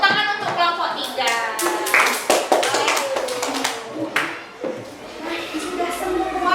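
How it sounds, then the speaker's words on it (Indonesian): Children in an Indonesian primary school classroom clap for a group, a burst of scattered hand claps mixed with chatter, rising for a couple of seconds then thinning out under voices. "Tepuk tangan untuk kelompok 3."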